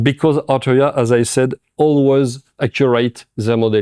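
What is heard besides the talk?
No distinct noise like a dog, phone or traffic.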